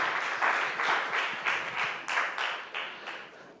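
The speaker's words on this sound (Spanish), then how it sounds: "Le damos un aplauso al Señor" A church congregation applauds in a steady rhythm, clear claps landing roughly three times a second in a reverberant hall, each beat loud and evenly spaced from start to finish.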